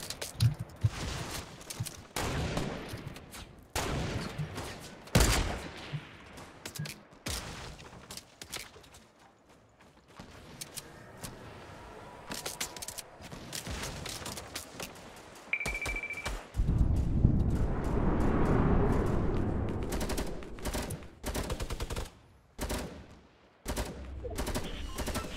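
Rapid bursts of gunfire in a Fortnite 50 v 50 match with light machine guns, loud and repeated, some close and some farther off, with a brief tone and a heavy sustained rumble near the end.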